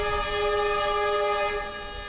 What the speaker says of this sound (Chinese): 身后竟然传来汽笛声